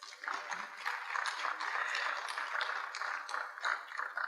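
Audience applause at an induction ceremony, a steady dense patter of many hands clapping that holds for several seconds with no voices over it.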